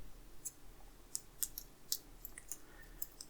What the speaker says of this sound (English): So I need my scissors for this.